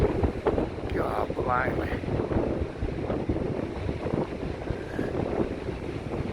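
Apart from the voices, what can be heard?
strong wind blowing into microphone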